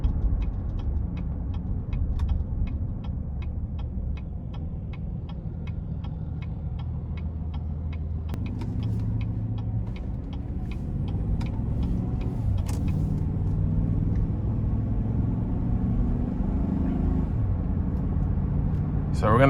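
A 2018 GMC Yukon SLE with a 6-speed automatic and 53,623 miles drives along, its engine a low steady hum with smooth shifts and a turn-signal ticking early on, while a person talks over it.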